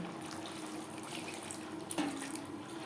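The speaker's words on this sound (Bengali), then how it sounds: "সস ও মশলার সাথে সবজি বেশ ভালো করে কষিয়ে নেওয়া হয়ে গেছে এই পর্যায়ে দিয়ে দেব জল" Water pours into a pan of vegetables cooked down with sauce and spices for chilli chicken gravy, a soft steady splashing wash with a brief louder gush near the end, fairly faint.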